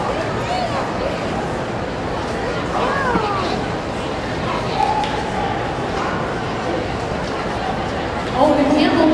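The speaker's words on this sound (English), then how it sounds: "Next we have a Norwich Terrier named Harry." A Norwich Terrier at a dog show, with brief yips and barks rising over the steady crowd murmur and chatter of a busy hall, voices continuing throughout.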